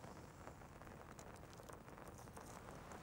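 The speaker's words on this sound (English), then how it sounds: "this rain they've forecast has really started to come down now" Rain falls steadily outdoors during a whip fishing session, a faint, continuous patter and hiss of drops with no voices.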